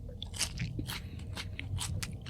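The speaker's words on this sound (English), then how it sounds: "Why is the sound effect so crunchy?" Crunchy biting in a video game, repeated wet crunches at an irregular pace, loud and close, like teeth sinking into flesh.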